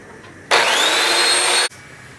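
Short burst of power sanding on a radiator pipe, a loud steady whir starting abruptly and cutting off after about a second, alone with no talk.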